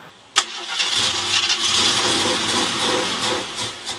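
An AMC Gremlin car engine cranks and catches with a sharp start, then settles into a loud, steady, hissing idle that runs on close by without any talk.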